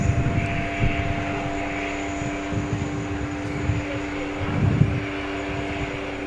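A jet airliner taking off from JFK airport produces a steady, rumbling engine roar at moderate distance, with low throbbing swells and a faint high whine throughout.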